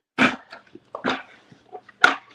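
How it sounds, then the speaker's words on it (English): A ten-month-old, 80-pound male dog gives three loud, deep barks spaced about a second apart, with soft whimpers and small noises between them. "10-month, 80-pound dog."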